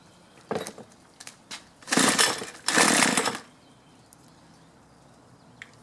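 A string trimmer with a fuel problem is pulled over with the choke on, giving a few brief sputtering bursts that catch into two short, loud engine pops before it falls quiet again.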